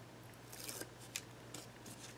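Backing paper peels off narrow 1/8 inch double-sided tape in several quick, soft crinkling rips close up, quiet over a low background hum.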